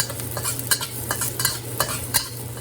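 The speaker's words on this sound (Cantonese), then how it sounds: "攞個薑線起鑊" Ginger strips stir-fry in a hot wok for a Chinese-style Bolognese, a close, continuous sizzle broken by repeated sharp scrapes and clacks of the spatula against the metal, with no one speaking.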